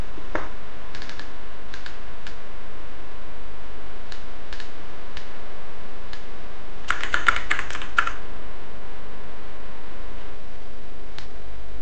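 Computer keyboard typing while slide text is edited in a wedding photo slideshow template, scattered key clicks with a denser burst of rapid keystrokes midway, close and clear over a steady low background hum.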